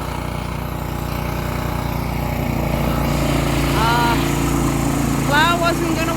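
A small snow blower engine drones steadily through the whole stretch during a Nova Scotia winter storm cleanup, a constant mid-pitch mechanical hum with a few faint voices and brief whistling sounds over it.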